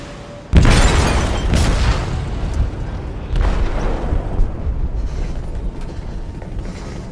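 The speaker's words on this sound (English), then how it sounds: "They detonated an explosive in the hold." A heavy boom of an explosive detonated in a ship's hold in Detroit: Become Human opens with a sharp onset, followed by sustained rumbling and creaking metal, with a second swell of roar midway, all without voices.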